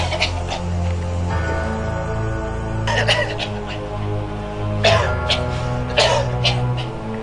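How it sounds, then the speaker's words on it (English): A man in a dramatic reading coughs in a few harsh bursts, spaced a second or two apart, over a steady low droning background. "This cough is nothing."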